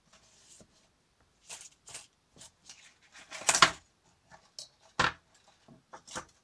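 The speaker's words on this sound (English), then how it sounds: "So I'm just going to cut something out for you." Short, scattered cutting and scraping sounds come from material being cut out on a healing mat to make a magnetic platform shim, with brief pauses between strokes at close range.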